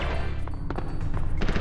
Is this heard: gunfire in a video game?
yes